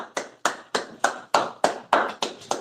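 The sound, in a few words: congregation clapping hands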